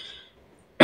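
A man clears his throat once in a short, loud, close burst at the very end, after near silence.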